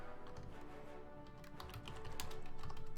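Fingers type steadily on a brand-new computer keyboard, a fast run of light clicky keystrokes close to the microphone that pick up in density toward the end, with game sounds faintly underneath.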